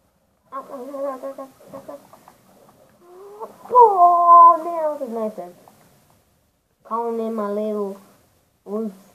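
A rooster crows and clucks in a few bursts with pauses between them, close and fairly loud, in the video game Call of Duty: Black Ops 2.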